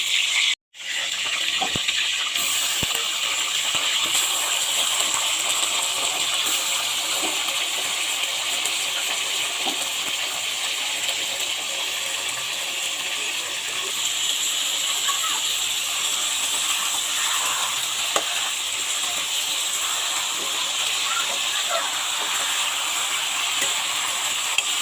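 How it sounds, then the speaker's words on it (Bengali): Fish heads frying in hot white oil in a kadai, giving a loud, steady, continuous hiss and sizzle that runs unbroken for the whole stretch, with faint crackles scattered through it. "এভাবে আমি সব মাছের মাথাগুলো ভেজে নেব।"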